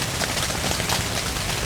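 Heavy rain drums on a camping tent, a dense, loud, continuous patter of drops hitting the fabric up close, with no voices.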